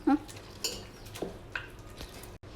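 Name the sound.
mashing cooked black-eyed pea dal with a masher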